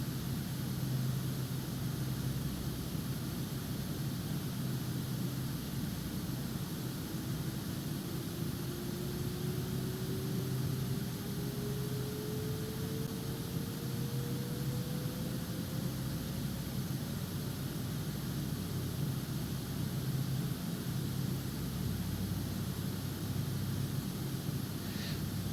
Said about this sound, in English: let's go ahead and start the APU